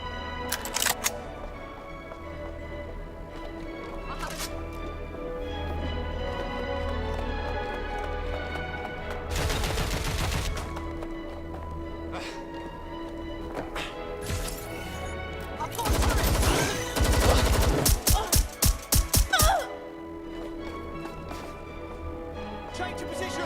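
Bursts of gunfire in the video game Watch Dogs: Legion, with a broad blast near ten seconds and a rapid volley of sharp cracks around sixteen to twenty seconds, set against a steady game soundscape with voices.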